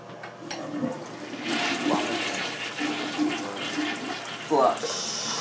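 A Crane toilet in a public restroom flushes with a rushing swirl of water that builds and sustains, ending in a gurgling drain and refill, while a person speaks faintly in the background.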